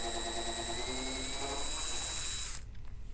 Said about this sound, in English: I got out my 90-degree drill attachment for the job